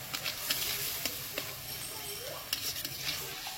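Spice masala with Kashmiri chilli powder sautéing in a pan, with a steady low sizzle and a few soft scrapes and clinks of stirring, fairly quiet and close.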